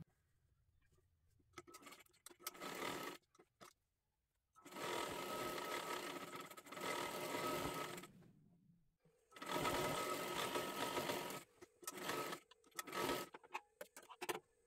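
A sewing machine stitching fabric for a girl's one-piece kathpadar saree, running in several close, steady bursts of rapid needle chatter separated by short pauses, with no talking.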